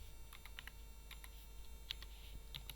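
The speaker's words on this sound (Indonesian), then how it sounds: "Kita ketik adalah index" Quiet, close typing on a computer keyboard while entering a file name, with a dozen or so light, irregular key clicks over a faint steady hum.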